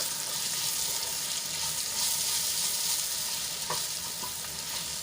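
A roasted peanut, sesame and gram flour mix is stirred into an ivy gourd curry in a hot pan, giving a steady close sizzle with faint scraping throughout and no voices.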